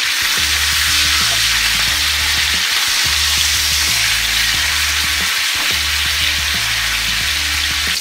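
Chicken pieces fry in a pan for chicken marsala, giving a loud, steady sizzle up close that continues without a break, with no talking.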